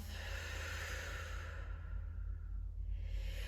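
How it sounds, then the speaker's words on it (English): A deep breath during a yoga flow: a long inhale through the nose, then an exhale through the mouth, heard close over a steady low background hum with no talking. "We'll then take a great big inhale through the nose. Exhale through the mouth."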